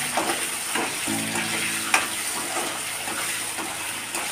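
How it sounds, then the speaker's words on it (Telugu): Green chillies frying in a pan for a paneer curry give a steady close sizzle with occasional stirring scrapes, and no one speaks. "ఎర్రగా వేగితే ఇవి ఎర్రగా వేగనిద్దాం."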